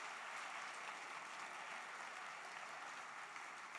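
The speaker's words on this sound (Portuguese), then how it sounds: "aplauda ao Senhor" Church congregation applauding during a sermon, a dense steady wash of clapping from many hands that holds evenly throughout, quiet and somewhat distant.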